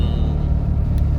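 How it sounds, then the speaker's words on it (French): A 1971 Fiat 500's small air-cooled 500 cc engine idles at close range, a loud, steady low rumble with a buzzy, uneven throb and no voices over it. "moteur, c'est pas le plus silencieux du monde, mais en tout cas ouais, c'est un petit moteur efficace."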